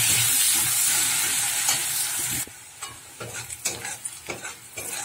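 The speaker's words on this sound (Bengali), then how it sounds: "ওর মধ্যে দিয়ে দিলাম পেঁয়াজ কুচি।" Chopped onion frying in hot oil with dried chili and five-spice, a loud, dense sizzle for a couple of seconds, then quieter sputtering broken by irregular scraping stirs.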